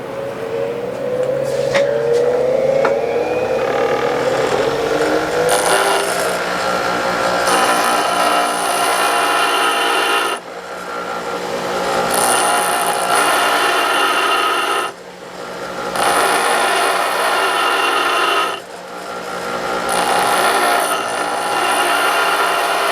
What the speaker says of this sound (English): it takes a while for my grinder to wind up here